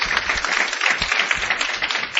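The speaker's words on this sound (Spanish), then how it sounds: "Denle un fuerte aplauso al Señor." A church congregation applauds in unison, a dense, steady wash of many hands clapping throughout with no voices standing out.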